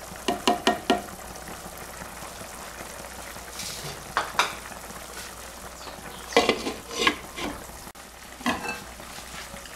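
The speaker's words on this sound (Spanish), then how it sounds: "Aquí hemos colocado un poco de aceite y vamos a hacer un sofrito" Sofrito frying in oil for lentil soup sizzles steadily in a pan, with repeated scraping stirs and clinks from a utensil coming in bursts. It is close and fairly loud, and no one talks.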